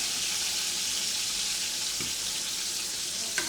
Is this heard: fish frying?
yes